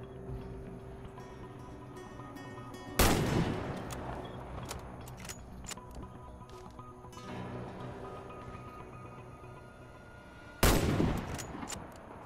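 Two loud, sharp sniper rifle shots ring out several seconds apart during target practice in the video game Warface, each cracking over a steady low game ambience.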